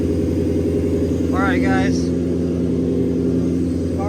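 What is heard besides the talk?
Lexus SC400 1UZ-FE V8 engine started and running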